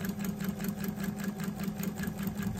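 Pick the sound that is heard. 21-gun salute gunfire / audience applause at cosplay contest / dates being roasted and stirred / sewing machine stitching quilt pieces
sewing machine stitching quilt pieces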